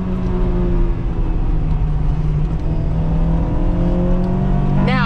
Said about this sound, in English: It's a purpose-built sports car, and that engine is truly amazing.